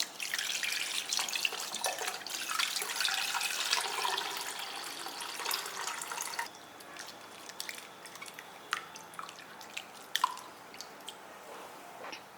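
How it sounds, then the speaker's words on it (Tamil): Water is poured into a pot of rasam while it is being made, a steady close splash and trickle for about six seconds that then thins to scattered drips and small clinks in a quiet kitchen. "இது தேவையான அளவுக்கு தண்ணி ஊற்றிக்கலாம்"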